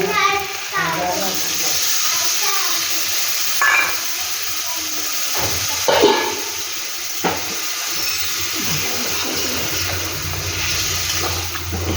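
Water poured into a hot pan of a soybean and potato curry, rushing and hissing into a sustained sizzle and bubble, with a voice speaking over it at moments.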